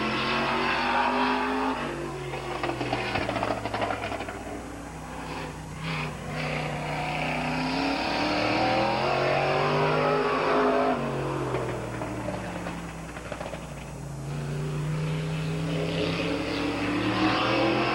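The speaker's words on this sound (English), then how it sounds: "On the track to qualify now the M&S Enterprise Racing Machine, the number 70 car, Larry McMillan." The number 70 M&S Enterprise Racing late model car qualifies at Midvale Speedway, Ohio, in 1988, its engine droning and rising and falling in pitch as it laps the track, steady and fairly loud throughout with no talk.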